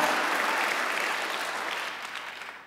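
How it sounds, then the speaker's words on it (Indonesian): Church congregation applauding together after a call to praise Jesus Christ during a worship service, a dense steady wash of clapping that slowly fades out toward the end. "Tepuk tangan bagi dia."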